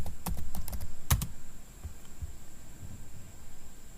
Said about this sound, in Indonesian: Selanjutnya kita pilih interface-nya dengan cara ketik interface.